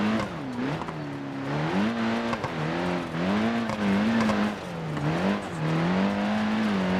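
A car engine in BeamNG.drive revs hard and steadily while the wheels spin and fail to put power down, its loud droning pitch rising and falling in waves throughout.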